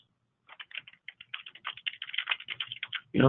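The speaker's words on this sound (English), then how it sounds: "Keep typing." Rapid keystrokes on a computer keyboard while entering a student bio into a web form, irregular clicks that speed up and cluster, close and fairly loud, ending with a burst of louder noise.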